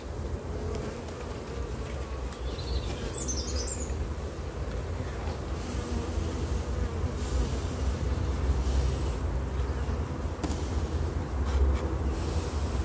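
Honeybees swarm around an open hive, producing a steady, close, dense buzzing drone that holds throughout. A brief high chirp cuts in early on.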